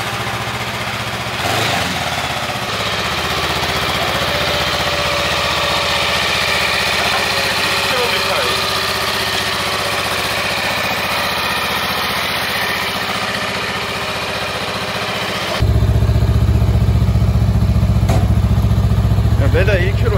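A Honda Rebel 500 motorcycle engine runs at a steady idle, then louder rumbling kicks in near the end as the engine starts up; people talk briefly.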